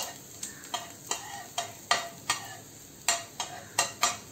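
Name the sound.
onion being fried and stirred in a pan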